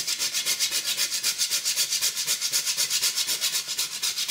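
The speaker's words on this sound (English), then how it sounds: "just grate your nutmeg into your Greek yogurt" Whole nutmeg is scraped on a microplane into Greek yogurt, with quick, even rasping strokes repeating in a steady rhythm, close and alone.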